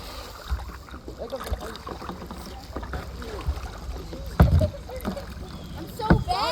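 Kayak paddling on open water with splashy strokes and water movement, people talking throughout over wind buffeting the microphone.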